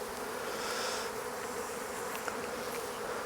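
Honey bees hum steadily around an open hive during an early-season inspection while a frame of stored nectar is handled, a dense close swarm drone with no talking.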